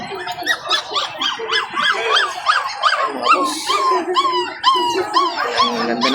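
A husky and labrador crossbreed dog whimpers and whines in a pet market, with repeated high squeaky cries and short howl-like yelps, close and fairly loud.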